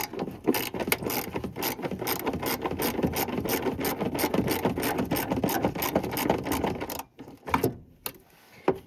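A 10mm socket ratchet clicks rapidly and rhythmically as it undoes a bolt on a 1984 first-generation Chevy S10, close and steady, then stops with a few scattered clicks.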